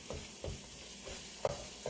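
Ground meat browning in a pan for dirty rice, with faint soft stirring scrapes and light sizzle recurring every half second or so, one slightly sharper clack near the end.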